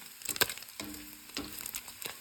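Six strips of bacon fry in a pan, giving a soft crackle with a few sharp pops and spits scattered irregularly across a quiet hiss.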